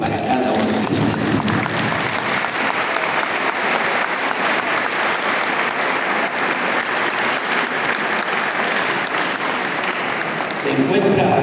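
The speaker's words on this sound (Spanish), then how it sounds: "se den una fuerte ovación para cada uno de ustedes" Loud, sustained applause from a large crowd, dense steady clapping that continues throughout with no break.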